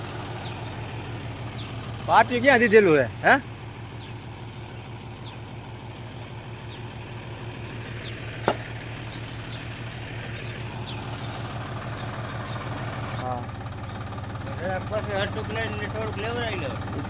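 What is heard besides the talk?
tractor engine running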